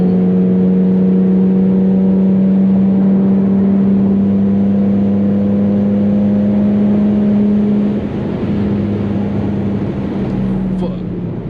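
Infiniti G37 engine droning steadily under hard acceleration in a POV drive, a strong sustained tone that holds for several seconds before dropping off as the car slows, with loud road and cabin noise throughout.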